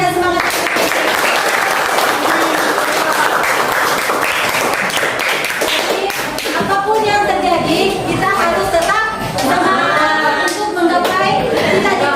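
A classroom audience applauds after a group presents a short story, with dense, sustained clapping that stays loud and steady throughout, mixed with some voices.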